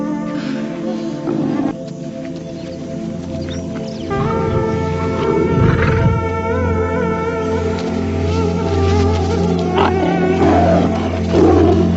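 A lion roars in the wild as a mother animal distracts it to protect her cubs, a deep, loud, sustained growling roar rumbling continuously throughout, swelling stronger in the second half.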